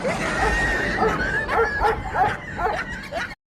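A voice imitates a dog barking at night, producing a quick run of yipping, whimpering bow-wows over a steady background hum, close and fairly loud, then cutting off abruptly.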